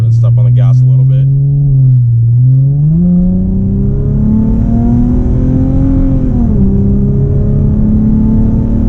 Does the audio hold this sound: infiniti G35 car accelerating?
yes